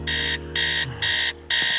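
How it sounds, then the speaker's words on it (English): An electronic alarm beeps in four steady, loud, evenly spaced bursts, each shrill tone lasting about a third of a second with short gaps between. "Didn't you hear the alarm?"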